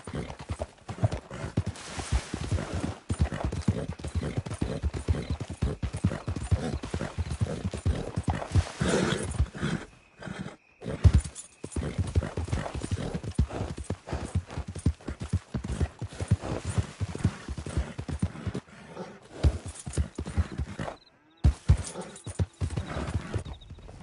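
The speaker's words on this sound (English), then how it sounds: "Hey, good-looking horse there." Steady clip-clop of horse hooves in the video game Red Dead Redemption 2 keeps a brisk rhythm almost throughout, with a few brief pauses, heard close and clear.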